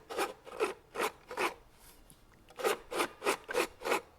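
A farm planter unit is turned by hand, giving rough, jerky rhythmic rubbing and scraping strokes, about eight evenly spaced passes with a short pause in the middle, close and fairly quiet, no talk.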